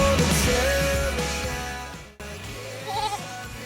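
A goat bleats a few times close by, a wavering nasal call amid farm background noise, with a brief cut partway through and another bleat near the end.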